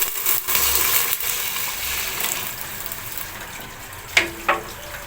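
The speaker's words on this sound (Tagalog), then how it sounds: "So after sauteing garlic and onion, we will put" Water goes into a pan of sautéed garlic and onion for Filipino misua and patola soup with meatballs, a hissing, bubbling sizzle that slowly settles, with a couple of sharp clinks near the end.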